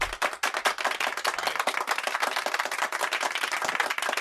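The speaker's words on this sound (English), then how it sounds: "Round of applause for the dudes who beat up Jussie Smollett" A studio audience claps loudly and continuously during a talk-show episode, a dense close patter of hands with no talk over it.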